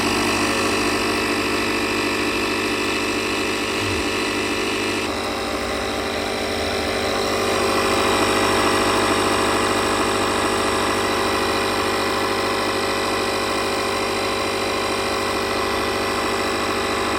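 A portable CAT multi-function air compressor, combined with an LED light, USB adapter and battery jumper, runs steadily while inflating a car tire, giving a loud continuous motor drone with a slight shift partway through and no speech.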